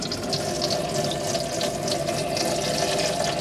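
Water runs steadily from a mixer tap into the fold-down sink of an Auto Trail Expedition 67 motorhome, a close, continuous splashing rush with no pauses.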